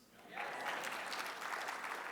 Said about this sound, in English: When you clap, you are taking all my time.